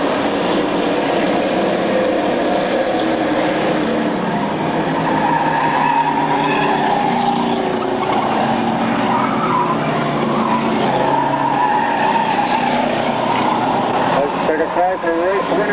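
Street stock race cars roar around a track in a continuous loud drone with tire noise, while an announcer talks over it.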